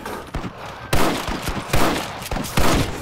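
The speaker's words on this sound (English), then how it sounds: "You can see I am shooting them in the head, but they're not dying." Rapid gunfire from the video game Red Dead Redemption, a dense run of loud, sharp shots fired in quick bursts with short echoing tails, with no voices over it.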